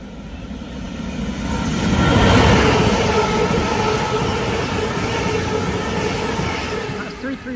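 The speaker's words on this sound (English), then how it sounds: "Passing through now is a Northern service from Blackpool North to Manchester Airport." Northern passenger service running through Gatley station on the Blackpool North to Manchester Airport route, a loud, steady rumble of wheels and carriages that builds, peaks midway and holds as the train rolls past close by.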